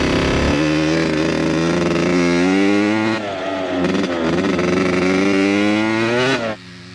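A Kawasaki KX80 two-stroke dirt bike from the 1980s, a barn find, holds a loud, sustained high-pitched rev close by. The engine note climbs and wavers for several seconds, dips briefly, then surges again before cutting back.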